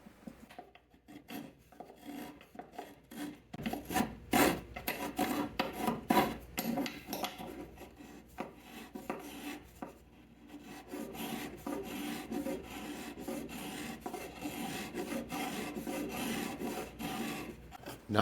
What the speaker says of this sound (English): using a couple of scrapers to even out the bottom